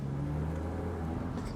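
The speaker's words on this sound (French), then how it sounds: "On entend le son de ce véhicule-là. Les sons de Porsche, là." A 2008 Porsche Boxster engine droning steadily while driving, low and heard from inside the car, with a faint shift in pitch toward the end.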